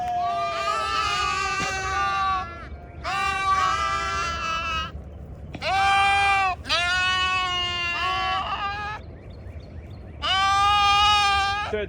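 Sheep on a farm bleat loudly and repeatedly in several long, wavering calls with short pauses between, close to the microphone over a steady low rumble of background noise.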